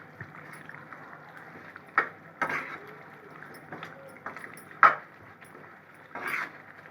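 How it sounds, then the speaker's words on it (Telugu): A spoon stirs Guntur gongura chicken curry in a pot, giving a handful of scattered scraping knocks against a quiet, steady background. "అంతా కలిసేటట్టు కలుపుకోవాలి బాగా"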